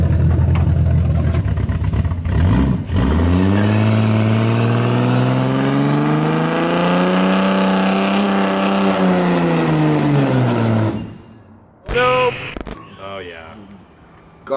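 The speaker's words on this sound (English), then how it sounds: "we're gonna lock this one wheel and burn the other one off and try to do donuts" A loud engine revs and holds a high, wavering roar for about ten seconds as an open-differential car attempts donuts, then cuts out, followed by a few short bursts.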